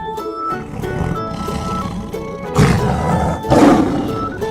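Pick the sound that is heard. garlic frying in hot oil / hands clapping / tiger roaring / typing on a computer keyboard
tiger roaring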